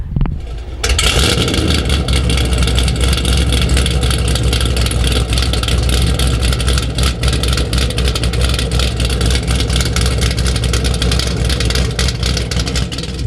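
A powerful Chevrolet Camaro engine rumbles steadily at idle at a car club cruise-in, deep and loud throughout, with a constant throaty exhaust drone and no talking.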